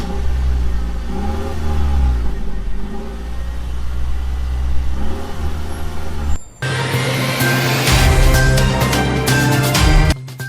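A car engine fires up after a short pause and settles into a loud, close idle with revs rising, following a stretch of talk.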